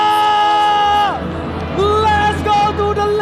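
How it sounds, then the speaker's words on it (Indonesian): Esports arena crowd in Jakarta at an Indonesian Mobile Legends final, RRQ Hoshi versus ONIC, cheering and whooping loudly as a continuous roar over background music and tones. "Mana tepuk tangannya?"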